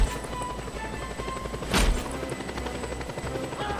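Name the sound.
helicopter in video game Just Cause 2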